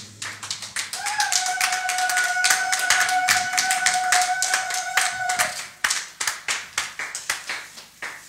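A church congregation bursts into sustained applause, dense and loud for several seconds with a sustained tone ringing through it, then thins into scattered individual claps near the end.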